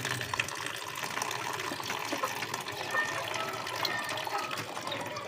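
Water pours from above into a pigeon enclosure, a steady splashing gush with fine trickling detail, moderately close and continuous without speech.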